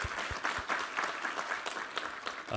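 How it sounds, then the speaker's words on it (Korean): Congregation applause at a Korean church service: continuous clapping from many hands, fairly quiet and distant-sounding, steady throughout with a few sharper claps near the start. "우리 하나님께 감사와 영광의 박수 올려드리겠습니다."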